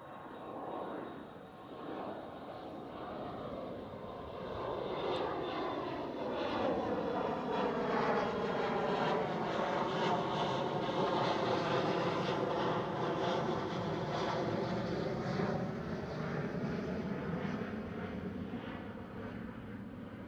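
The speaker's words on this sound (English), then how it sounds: "there goes the next KLM Cityhopper already, an Embraer E175, smallest of the KLM Cityhopper fleet" A KLM Cityhopper Embraer E175 jet airliner passes at Schiphol airport, its engine roar swelling from moderate to loud, holding steady for several seconds, then gradually easing as it moves away, with no talking.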